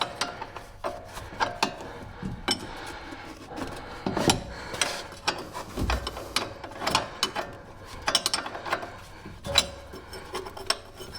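A wrench turns a stiff lock nut on the lower ball joint of a 2018 Chevrolet, making close, irregular ratcheting clicks and metallic scraping in uneven bursts.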